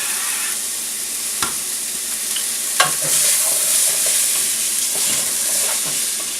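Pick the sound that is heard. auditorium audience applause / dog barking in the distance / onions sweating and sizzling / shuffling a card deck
onions sweating and sizzling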